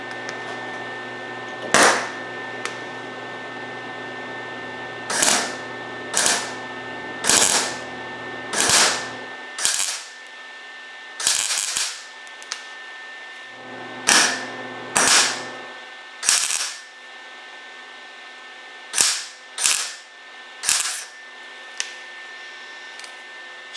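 A welder stitch-welds to fill a small hole in a rusted car door panel, producing a series of short, loud crackling bursts separated by pauses, roughly a dozen tacks in uneven rhythm, close up.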